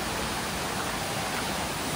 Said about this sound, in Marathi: हा धबधबा आहे।